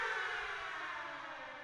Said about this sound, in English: a siren rang out shrilly as if to mock her hopefulness